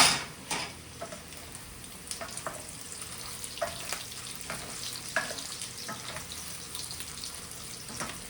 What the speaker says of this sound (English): You just want to keep stirring your meatballs because you don't want them to burn.